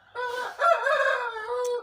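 A rooster crows once, close and loud, a long harmonic call that rises then holds steady for nearly two seconds.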